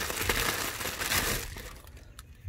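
Plastic and paper packaging around an Alpine S-S65 car speaker crinkles and rustles up close as it is pulled off, loud at first and then trailing into a few lighter crackles.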